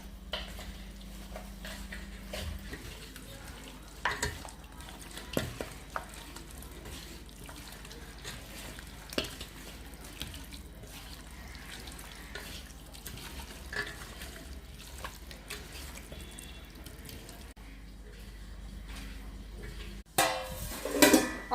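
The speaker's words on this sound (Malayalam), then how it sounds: "ഒരു രണ്ട് സ്പൂൺ തൈര് ഒഴിച്ചു കൊടുക്കാം എല്ലാം കൂടി നന്നായി മിക്സ് ചെയ്യാം" Chicken pieces are mixed with masala and yogurt in a bowl, producing soft continuous squelching and occasional clinks of a spoon against the vessel, close and quiet, ending in a louder burst of clatter.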